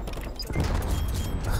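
A C4 charge detonates in the video game Black Ops Cold War, a sudden booming blast with a crashing rumble that lingers after it, with no talking.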